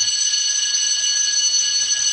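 A school bell sound effect from the VN editing app rings as a continuous, bright electric jangle, steady and loud with no pauses and no one speaking over it.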